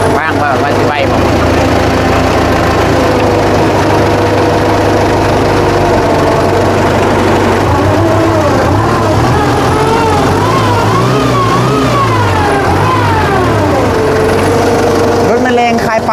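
A Kubota M9540 tractor engine runs steadily throughout at close range, a continuous loud diesel rumble with shifting tones, while people talk over it.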